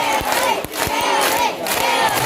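Crowd at a bird circus show in a Phu Quoc safari park clapping and chanting loudly in unison, with sharp rhythmic claps cutting through a dense wash of cheering voices throughout.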